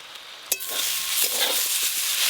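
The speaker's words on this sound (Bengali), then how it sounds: "চাপা খুলে একবার নেড়ে নেব" Greens and potatoes cook in a pan, with a sharp clatter as the lid comes off, then a steady sizzle and soft scraping stirs, close and moderately loud, with no talking.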